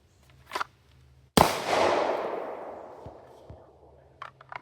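A single sharp handgun shot fired right after a draw from an OWB outside-the-waistband holster, a loud crack with a long decaying outdoor tail, preceded by a faint click and a few soft thuds.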